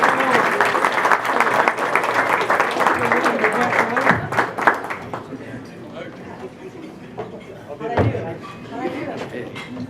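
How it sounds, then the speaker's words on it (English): A room full of attendees at a chamber of commerce annual meeting applauds as speakers are welcomed to the stage, clapping steadily for about four seconds before fading under a voice addressing the crowd. "So a big round of applause"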